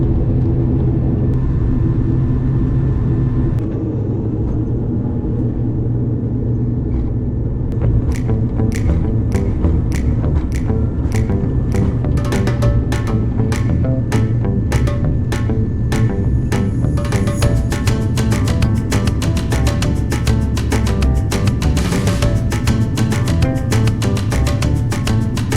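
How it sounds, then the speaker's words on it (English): Japan Air Commuter turboprop airliner at Osaka Itami Airport taxiing and taking off, a steady loud engine rumble that builds into a rising, throbbing roar with rhythmic propeller beats as power increases for the takeoff run. "soon we were off to taxi to the runway and take off"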